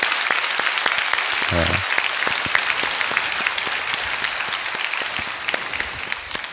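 A church congregation at a Baptist prayer gathering claps in steady, dense applause close by, with a brief spoken word early on and the clapping thinning slightly toward the end.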